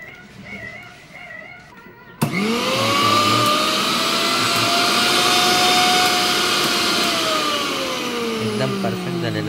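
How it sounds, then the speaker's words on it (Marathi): A repaired kitchen mixer grinder starts abruptly after a quiet moment and runs at a steady loud motor whine for several seconds. "एकदम परफेक्ट झालेला आहे मिक्सर."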